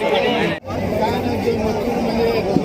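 Steady crowd babble fills an outdoor bullock cart race gathering in Chiplun, many voices blending into a constant murmur with one voice speaking over it.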